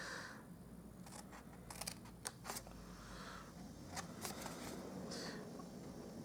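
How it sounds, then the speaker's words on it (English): Scissors snipping through card stock along score lines while making a Stampin' Up! Easter treat box: a quiet series of brief, crisp cuts, some in quick pairs, over faint room noise. "I'm just going to grab my scissors and we're just going to cut up the score lines."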